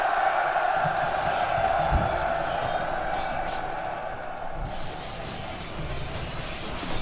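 Massed soldiers cheer before an advance in the Rome Total War game, a sustained, dense crowd roar running steadily throughout at fairly constant loudness.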